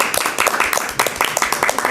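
A small group at a board meeting claps in scattered, uneven bursts, close and fairly loud over a brief stretch, with voices faintly mixed in.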